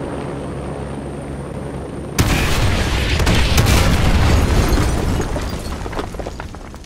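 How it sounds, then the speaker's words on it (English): Artillery strike in Call of Duty Modern Warfare 2: an engine-like hum gives way to a sudden loud blast, followed by a long rumbling roll of explosions that slowly fades. "Fire mission received. Artillery inbound."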